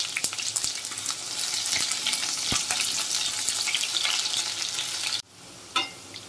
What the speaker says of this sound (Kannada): ಹಾಗೆ ಒಣಮೆಣಸಿನ್ಕಾಯಿ, ಹೆಚ್ಚಿಟ್ಟಿರುವಂತಹ ಈರುಳ್ಳಿ. ಇದನ್ನು ಫ್ರೈ ಮಾಡ್ಕೋಬೇಕು.